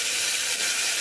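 Onions, tomatoes and green chillies hiss and sizzle in hot oil over a tempering of spices, a steady, loud, bright frying crackle that runs without a break for about a second with no voices.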